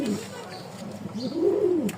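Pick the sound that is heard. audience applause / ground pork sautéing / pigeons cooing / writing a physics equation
pigeons cooing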